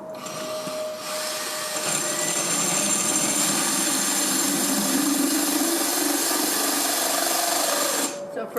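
A power drill bores into a hard clay pot, its steady high whine running nearly continuously for about seven seconds before cutting off near the end.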